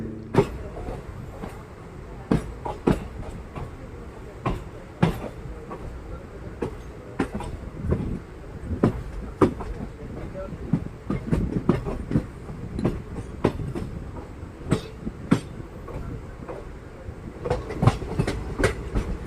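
A passenger train from Kerala to Karnataka rolls steadily along the tracks near Nileshwaram station with a low rumble and repeated sharp clicks of wheels over rail joints, close and continuous.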